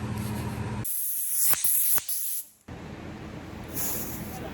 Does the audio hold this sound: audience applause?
no